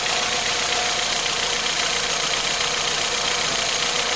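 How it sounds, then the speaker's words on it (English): A 2015 Hyundai Accent with a failing crankshaft signal, loss of acceleration and rich running sits at a steady, loud engine idle, a continuous broadband hum with a faint knock and vibration and no talk. "we're gonna start this vehicle up"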